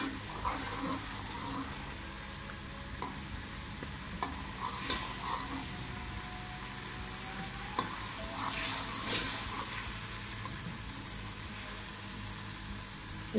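A paste of onion, tomato and green chilli sizzles softly in a pan, a low steady frying hiss with occasional stirring scrapes and faint clicks.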